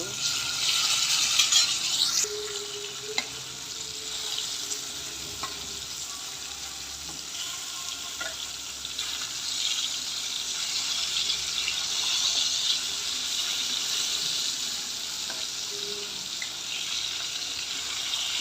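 Hilsa fish frying in a pan makes a continuous loud crackling sizzle close up, with occasional clinks and scrapes of a utensil and a faint voice in the background.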